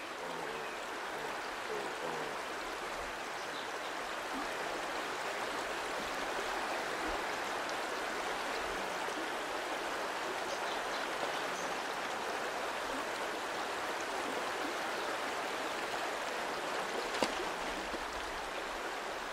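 A strong river current in the Australian wild flows steadily, a continuous broadband rush of moving water with no voices, even in level throughout.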